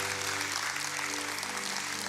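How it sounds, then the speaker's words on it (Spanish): A church congregation applauding during a worship service, a dense, steady wash of clapping held at one level throughout, with no voices on top. "dale fuerte el aplauso a Dios"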